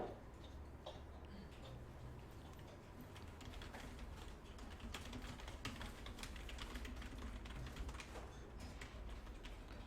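Typing on a computer keyboard during a word-processor lesson: a quiet, continuous run of close key clicks and taps at an irregular pace, with no voices.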